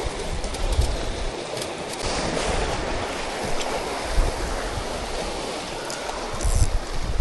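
Sea waves break and wash continuously onto a beach shore, a loud, broad roar with rolling surges and some wind buffeting, no voices.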